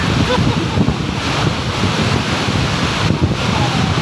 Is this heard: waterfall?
yes